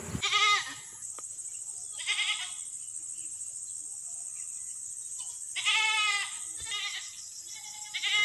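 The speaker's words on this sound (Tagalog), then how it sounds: "Iyak na iyak yung ating baby kambing." A baby goat on a goat farm bleats loudly and insistently in three separate cries spaced a few seconds apart, close by, with quiet farm background between calls.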